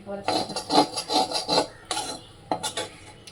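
Grated coconut roasting in ghee in a pan, stirred with rhythmic scraping strokes of a utensil against the metal, close and fairly loud, with a brief pause before a few more strokes.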